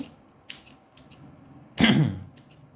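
Scissors make a few quick, quiet snips as they trim paintbrush bristles bit by bit, with one louder rustling burst partway through.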